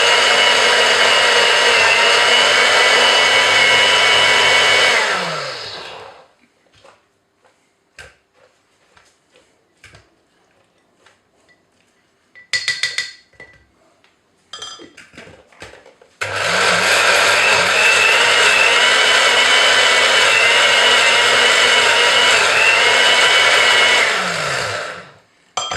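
Kitchen blender liquidizing nuts and parmesan for pesto, two loud, sustained whirring runs separated by a quiet pause with scraping and knocking, each run ending as the motor spins down.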